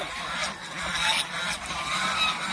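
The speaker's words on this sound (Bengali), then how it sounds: "এই যে দেখেন আমার হাঁস এইখানে আছে" Domestic geese honk at a goose farm, several birds calling in loose overlapping bursts against a steady flock murmur, fairly close and continuous throughout.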